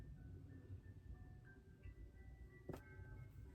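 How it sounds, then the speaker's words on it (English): An ice cream truck outside playing its faint tinkling jingle far in the distance, barely above a quiet indoor hum, with a brief sharp knock near the end. "You hear the ice cream truck?"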